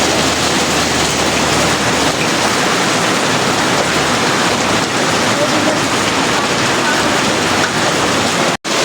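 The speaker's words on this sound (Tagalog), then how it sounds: "Biglang umulan ng yelo, grande ni." A sudden burst of hail hammers down in a dense, constant roaring patter, loud and close, continuing without letup and cutting out for a brief moment near the end.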